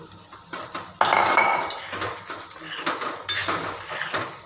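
A metal spoon scrapes and clinks around a pan as poha is stirred for Maharashtra-style kande pohe, close-up bursts of clattering and rustling at an uneven pace, with no talking.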